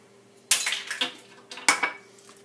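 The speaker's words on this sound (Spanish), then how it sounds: "Entonces, rompen los huevos" Eggs being broken on kitchen dishes: sharp cracks and clinks against a bowl or plate, coming in two quick clusters of a few taps each, close and fairly loud in a quiet room.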